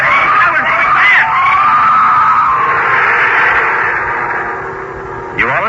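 A long, loud scream from an old-time radio horror drama, a wavering shriek sustained for several seconds before fading, ending with a short burst of another voice.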